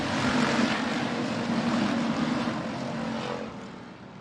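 Hobby stock race cars at a speedway give a loud, sustained engine roar, a steady broadband drone that eases off slightly toward the end.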